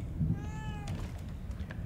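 Cat in The Evil Within 2 game giving a single short meow over a low rumbling background, fairly faint and brief.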